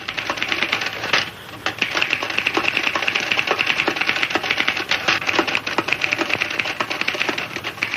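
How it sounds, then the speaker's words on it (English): An old typewriter clatters in a fast, continuous burst of close key strikes with a brief pause near the start, and no voices. "this is a thing called a typewriter"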